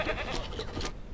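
Goats bleat repeatedly in the Ranch Simulator farm game, a couple of close, loud wavering calls in quick succession with no talking.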